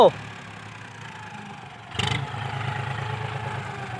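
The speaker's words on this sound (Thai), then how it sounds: "ตอนนี้รถไถก็มาแล้วไปชมกันครับ" A 45-horsepower farm tractor arrives on a rural road to help a stuck dump truck. Its engine hums low and steady, then grows louder and rougher as it draws near, with voices talking over it.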